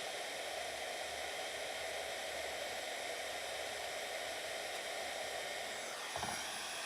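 A heat gun blows a steady, loud hiss of hot air, melting crayon wax on a card front, running continuously from start to finish with no voices.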